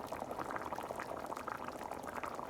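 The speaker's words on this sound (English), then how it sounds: "it's been about 4 hours since this started boiling" Brisket birria broth boils steadily in a pot, a dense, continuous bubbling roar with no pauses, close and fairly loud, with no talking.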